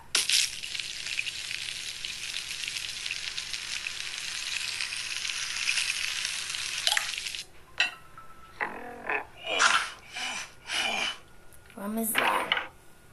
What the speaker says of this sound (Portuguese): Então vamos fritar essa batata.